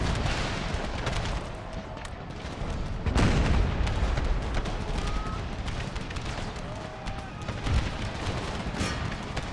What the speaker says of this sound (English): Howitzer fire from the back of the Union lines.